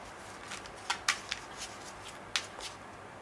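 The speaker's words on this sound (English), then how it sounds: "I'm just giving it a quick shuffle again, and then we will cut the deck." Tarot and Lenormand cards get a quick shuffle, soft papery riffling with a few sharper snaps and slaps, close and fairly quiet, no talking.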